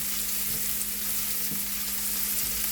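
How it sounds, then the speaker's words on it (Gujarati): Orange peel frying in hot oil for a Gujarati orange-skin curry, giving a steady close sizzle throughout with faint stirring knocks. "એની સાલ લીધી છે, સંતરાની સાલ, તેને આપણે સાતરી દઈશું"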